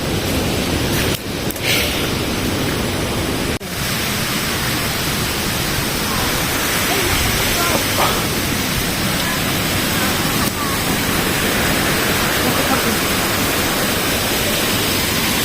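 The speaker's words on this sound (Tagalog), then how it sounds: "Yara na ang falls." Rakitdakit Falls rushing with loud, dense broadband roar, close and constant throughout, with faint voices of visitors nearby under the water noise.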